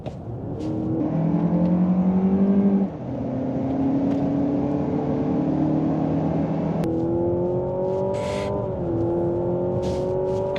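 A Mazda CX-90 PHEV plug-in hybrid SUV accelerates hard in a drag race, its engine note climbing in pitch through several gear changes, with a steady loud whir and no talk.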